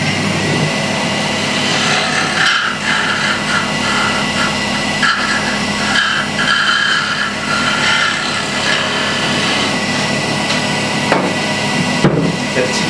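A small wooden teapot spinning on a wood lathe while being sanded, giving a continuous close rubbing whir with a steady motor hum and a few light knocks, and no one talking.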